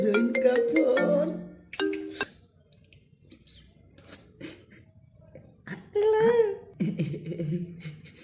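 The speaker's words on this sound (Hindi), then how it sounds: "आ गई मेरे हीरोइन का फोन।" A mobile phone rings with a bright, tonal melodic ringtone in short phrases, broken by pauses and mixed with brief sounds of people nearby.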